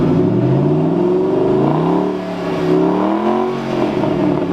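A 2014 Ford Shelby GT500 with a new exhaust revs nearby, loud and throaty, the engine note climbing, dropping back around the middle and then rising again in a continuous roar.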